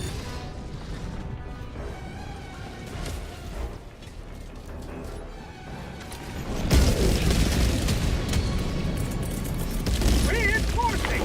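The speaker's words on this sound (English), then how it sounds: "these airstrikes keep killing me" Heavy airstrike explosions in the Bloodhunt video game rumble and crash loudly, the barrage swelling sharply midway, with a voice speaking over the blasts.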